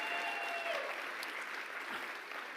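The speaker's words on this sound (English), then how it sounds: "Big round of applause for them." A crowd at a university startup showcase applauds the hotel team with steady, moderately distant clapping that holds evenly throughout, with a faint tone at the start.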